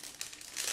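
A separate plastic bag holding transparent sprue and canopy parts from a 1/72 Do 17Z-2 model kit crinkles briefly and close up, a short papery rustle with no talk.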